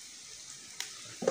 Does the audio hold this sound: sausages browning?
yes